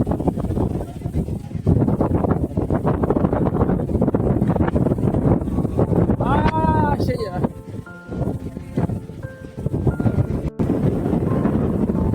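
Wind gusting across a beach at Laxmanpur on Neil Island in the Andamans, a steady loud rush of broadband noise buffeting the microphone throughout, with people talking and a tonal whistle briefly rising over it.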